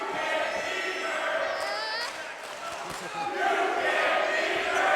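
A wrestling crowd at a live independent show roars steadily under a commentator's voice, the noise dipping briefly midway before swelling louder again.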